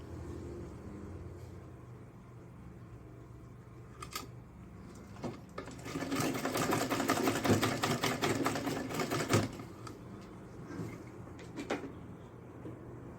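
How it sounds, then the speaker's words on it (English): A sewing machine stitches an Ankara fabric purse near the zipper end. After soft handling sounds, one steady, fairly quiet run of stitching lasts about three seconds, followed by more light rustling. "I'm just going to sew on top of it to hold it in place."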